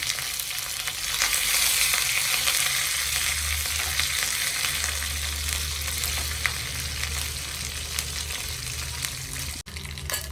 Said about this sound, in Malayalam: നെയ്യിലാണ് വറക്കുന്നത് ഒരു സ്പൂൺ നെയ്യ് ഒഴിച്ചിട്ടുണ്ട് കറിവേപ്പില കൂടെ ചേർത്ത് കൊടുക്കാം